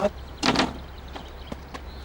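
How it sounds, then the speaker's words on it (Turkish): A door is opened with a short rattling scrape and a clunk, followed by a few faint clicks in a quiet room. "Kapıyı bana açtırıyorsunuz."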